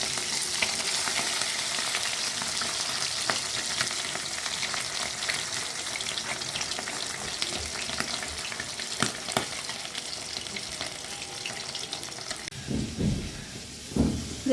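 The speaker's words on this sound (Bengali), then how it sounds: "ভাজা প্রায় হয়ে গেছে।" Small chela fish sizzle steadily in hot oil in a pan, a continuous crackling fry that runs loud throughout, with a few clatters of a utensil near the end.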